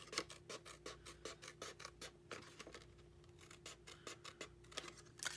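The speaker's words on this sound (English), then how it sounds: "just cut the rest of this part of that 1-inch section, just cut it all off" Scissors snip and scrape through box material, cutting off a 1-inch section, a quiet close run of rapid rhythmic crunching cuts with brief pauses.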